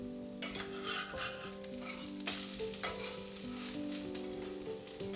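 Okonomiyaki sizzling on a griddle, with steady frying crackle plus a few spatula and pan clinks, close and moderately quiet, while soft background music plays.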